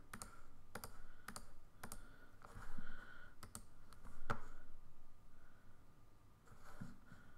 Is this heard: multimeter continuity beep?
no